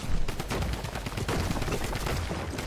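Gunfire in the video game Fortnite: dense, rapid automatic shots rattle without a break, fairly loud and close, with overlapping bursts and no talking.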